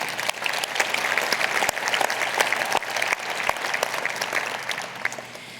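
An audience claps loudly and steadily at the Nampa State of the City 2024 address, a full, continuous wash of many hands with a few sharper claps standing out.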